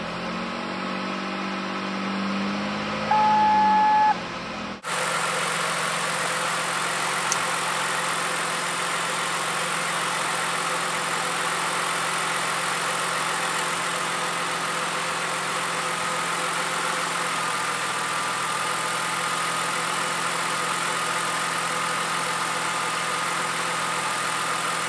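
A car engine starts abruptly after a short cranking whir, then holds a steady raised rev around 2,000 RPM, a continuous close hum with no voices.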